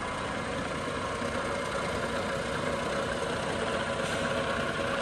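A 1-1/2 HP Excello ram type vertical mill running in low range, a steady, dense mechanical whir and hum that stays constant throughout.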